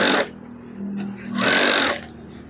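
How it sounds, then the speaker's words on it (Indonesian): A sewing machine stitches a fabric curtain divider in short bursts: a brief whir, a quieter hum, then a longer run of stitching, all close and fairly loud with a voice speaking over it. "Jahit terus."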